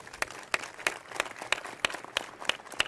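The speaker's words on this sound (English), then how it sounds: "Give them a big round of applause" A press conference audience for the 50th annual Bayou Classic claps quietly in a sparse, regular rhythm, sharp individual claps spaced evenly apart with no voices over them.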